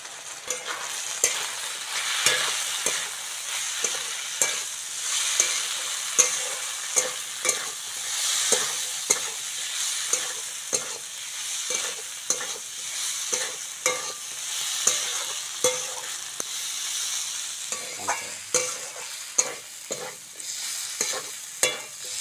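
Fish with potato, eggplant, ginger paste, chili and turmeric sautéing in a pan, a steady sizzle broken by repeated scraping and stirring strokes of a spatula throughout, with no voices.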